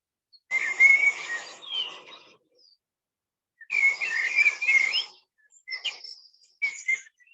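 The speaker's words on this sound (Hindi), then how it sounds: "पक्षियों के चहचहाने की आवाज आपके कानों में मधुर संगीत" Birds chirp and whistle in two bright bursts of song separated by a silent pause, followed by a few shorter, isolated tweets, all fairly close and clear.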